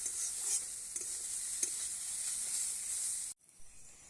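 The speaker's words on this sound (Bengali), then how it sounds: "নিয়েছি ধনিয়ার গুঁড়ো আর নিয়েছি জিরের গুঁড়ো তো ভালো করে আমি কষিয়ে নেব" Ground coriander and cumin sizzle steadily in a hot pan while being stirred, a continuous bright hiss with a few scraping clicks, until the sound cuts off sharply near the end.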